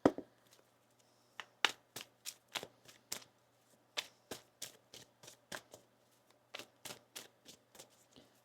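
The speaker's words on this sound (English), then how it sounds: "One more shuffle here." A tarot card deck being shuffled by hand up close, a steady run of about twenty crisp riffling snaps in an even rhythm with brief pauses, no talking.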